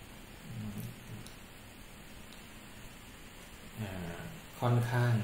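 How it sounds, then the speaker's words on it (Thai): Steady rain falls throughout with low rumbles of thunder, a louder burst of rain and thunder swelling near the end, and a voice talking over it partway through. "ยังมีเสียงฝนตกอยู่เหมือนเดิมเลยทีเดียว"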